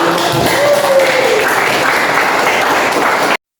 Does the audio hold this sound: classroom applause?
yes